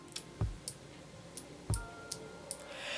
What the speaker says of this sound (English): These switches have an extremely well-defined click, and the sound is very, very good and crisp as well.